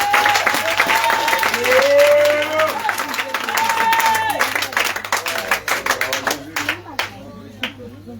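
A church congregation applauds and acclaims Jesus during a sermon, with sustained, loud clapping and cheering voices over a steady musical tone, fading into scattered claps near the end.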